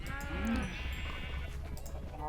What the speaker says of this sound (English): There's just too many cows in there. Too many cows, not enough space.